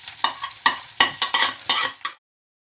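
An egg frying with coriander and no onion in a home kitchen pan, sizzling steadily under a series of sharp stirring scrapes and spatula knocks, close and fairly loud, then falling silent.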